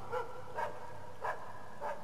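A dog in the video game Assassin's Creed Chronicles: China barks four times at a steady, spaced rhythm over about two seconds. The barks are moderately loud and clear, with no talking.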